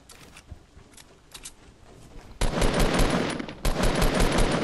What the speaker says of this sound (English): And it's firing shots in the air.